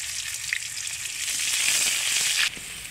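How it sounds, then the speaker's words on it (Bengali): Chopped onions fry in hot oil in a pan with blackened chillies, giving a loud, continuous sizzle that crackles on throughout and cuts off abruptly near the end. "পেঁয়াজটাকে বন্ধুরা একটু ভাজা ভাজা করে নিচ্ছি"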